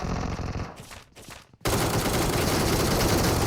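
Gunfire in the mobile battle royale game PUBG Mobile: a burst of rapid automatic shots, a brief lull with a couple of cracks, then dense sustained fire, loud and close.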